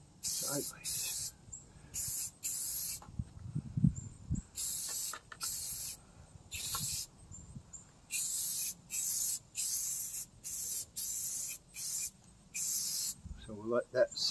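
Repeated short bursts of aerosol spray paint, each a loud hiss lasting a second or so, with brief pauses and faint handling noises between them.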